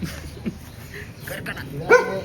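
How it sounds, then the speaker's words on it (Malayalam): A single sharp bark from a golden retriever rings out close by near the end, with faint background noise and murmuring around it. "ഗോൾഡൻ ഇനത്തിൽപ്പെട്ട ഡോഗാണ്"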